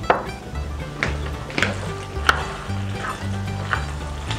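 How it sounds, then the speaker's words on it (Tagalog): Macaroni being stirred in sauce in a pan for baked macaroni, with soft scraping and sizzling and a few light knocks of the spoon, close and continuous. "Tapos haluin lang natin."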